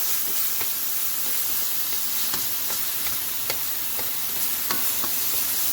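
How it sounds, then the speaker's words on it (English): Crushed garlic and diced onion sauteing in a tablespoon of olive oil, a steady soft sizzle with faint scattered crackles and stirring ticks, close and even throughout with no talk. "Saute 2 crushed garlic and 1/4 cup of diced onion in 1 tablespoon of olive oil."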